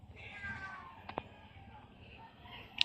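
Two pet cats named B1 and B2 meowing near a home garden, with a few short mewing calls and a sharp cry at the end over low background noise.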